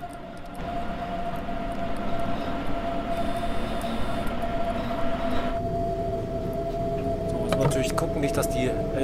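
A Munich S-Bahn train in Train Sim World 2 runs between closely spaced stations, giving a steady rumbling drone with a sustained tone that shifts midway, plus scattered clicks near the end. A voice talks over it.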